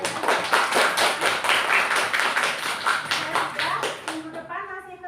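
Classroom clapping, a dense patter of many hands in a school lesson setting, steady and fairly loud for several seconds before thinning out at the end.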